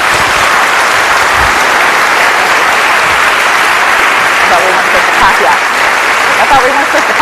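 A lecture audience applauds loudly and continuously, a dense, sustained roar of many hands clapping that fills the room from start to finish, with faint voices murmuring underneath toward the end.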